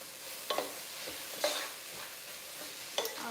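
A spoon stirs a tuna cutlet mixture with salt, spices and cooked onions in a bowl, a steady moist scraping broken by three or four sharper clinks against the side, close and without talk.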